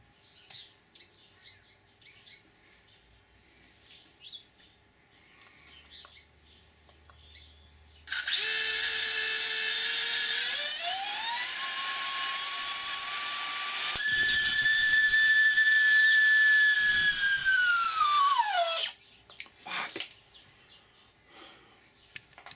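After quiet surroundings, a loud high whine abruptly starts as a small 30mm nine-blade 3D-printed rotor spins up, rises in pitch, holds steady for several seconds, then cuts off sharply.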